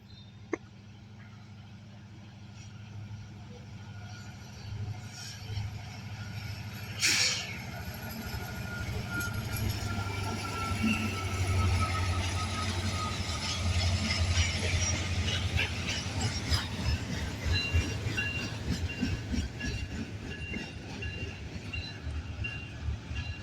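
Norfolk Southern manifest freight train 238, running Sharonville to Columbus, Ohio behind a single ACe locomotive, rolls past steadily with a low rumbling drone, building in loudness over the passage with rail clatter and faint wheel squeal.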